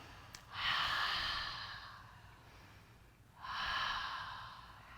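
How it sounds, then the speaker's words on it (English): Two deep, forceful Pilates breaths during a gentle yoga and Kundalini session, each a long airy exhale through the mouth lasting over a second, close and clear, separated by a quiet pause. "Couple more deep Pilates breaths because they're so cleansing"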